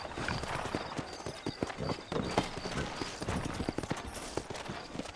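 Horse hooves clip-clop in Red Dead Redemption, several horses trotting close by in a quick uneven patter of sharp knocks, with a brief whinny and some faint voices in the background.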